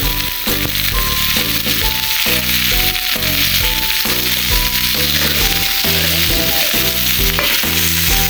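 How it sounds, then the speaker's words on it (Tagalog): Meat dropped into a pan of toasted garlic and onion frying for pancit, giving a loud, continuous sizzle broken by rattles from stirring, with no voices. "Kaya ilagay na natin ang karne."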